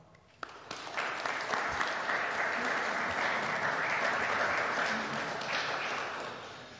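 An audience at the UEFA U-19 Futsal Championship draw in Poreč bursts into applause for the eight finalists, starting with a few scattered claps before swelling into dense, sustained clapping that holds steady and slowly tapers near the end.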